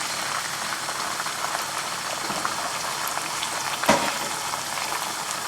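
Tomato, ginger and garlic paste sizzling in a pan for chicken biryani: a steady, dense hiss and crackle throughout, with one brief louder clatter partway through, and no talking.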